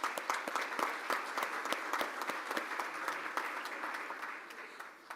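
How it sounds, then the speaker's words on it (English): A quiet, steady round of applause from a small Rotary Club meeting audience, with clear individual claps audible throughout and no talking over it. "And let's give them a round of applause."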